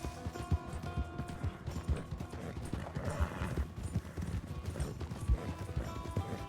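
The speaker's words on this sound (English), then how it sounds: "A lot of horse hooves up top." Horse hooves clip-clop steadily in the RedM video game, several horses trotting nearby with a rhythmic clatter and an occasional whinny, under faint background talk.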